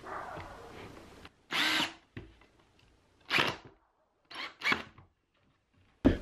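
A power drill drives screws into a workbench drawer in several separate short whirring bursts, loud and close, with quiet gaps between them and faint shop rustling.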